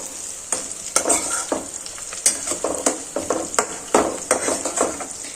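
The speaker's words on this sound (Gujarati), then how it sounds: "આ ડુંગળી અને મરચું છે તે પ્રોપર રીતે સતળાઈ જાય" Chopped onion and green chili sauté in a hot pan, a steady sizzle punctuated by repeated sharp clinks and scrapes of a spatula against the metal, close and fairly loud.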